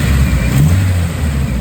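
A 1999 Nissan Silvia S15 Spec R engine given a quick blip of gas, a loud, close rev that swells and settles back over a low rumble.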